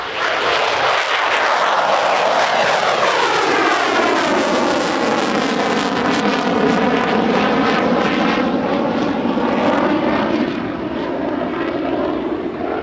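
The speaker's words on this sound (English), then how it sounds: "that heralds the start of our first fastjet solo display of the day" A Hellenic Air Force Demo Team Zeus fast jet roars through its solo display at Radom Airshow 2023, loud and continuous, its pitch sweeping as it passes.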